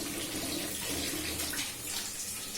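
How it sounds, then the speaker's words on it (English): A pot lid being washed under a running kitchen tap, with a steady rush of water splashing over the metal for the whole stretch and no talking. "Just washing my lid"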